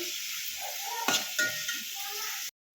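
Salt, cumin, mustard seeds and turmeric frying in a pan, a brief close crackling sizzle with a couple of stirring scrapes, cutting off abruptly into silence.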